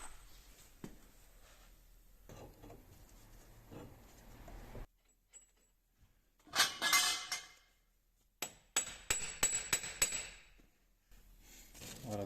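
Hammer tapping on a wheel nut of a Ford Connect during a driveshaft boot replacement, a few sharp metallic clinks and knocks in short clusters separated by quiet gaps, close but fairly faint.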